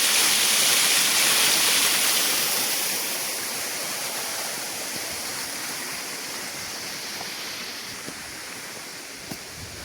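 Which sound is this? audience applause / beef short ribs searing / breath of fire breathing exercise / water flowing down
water flowing down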